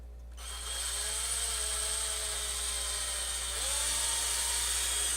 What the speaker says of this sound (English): Technically, I need a longer drill bit, but since I can access all the holes from both sides,